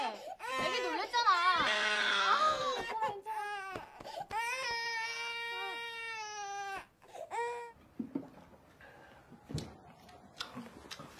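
A startled infant cries loudly and close by, with wavering wails and sobbing breaths that run for several seconds before fading into whimpers, mixed with quieter voices and household noise.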